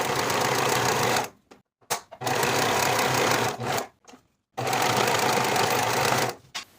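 Sewing machine stitching the side and bottom edges of an overalls pocket, three loud steady runs of machine noise separated by short pauses, no talk.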